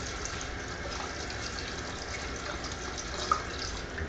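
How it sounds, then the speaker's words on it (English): Cold tap water runs in a steady, even stream over cherries in a sink strainer, a close, continuous splashing hiss with no voices. "I'm going to run the cold water on top of these cherries."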